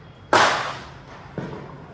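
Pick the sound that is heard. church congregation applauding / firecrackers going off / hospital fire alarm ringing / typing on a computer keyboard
firecrackers going off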